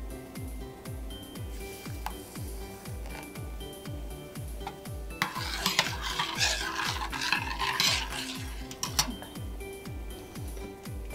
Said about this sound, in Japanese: 大さじ3杯のインスタントコーヒーを 100cc のお湯で溶かしていきます。